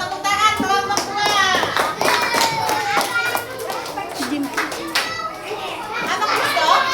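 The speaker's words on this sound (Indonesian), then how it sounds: "Tepuk tangan kelompok 2" Classroom of children clapping for a student group after a correct answer in a lesson, rhythmic patterned claps close by with children's voices and chatter mixed in.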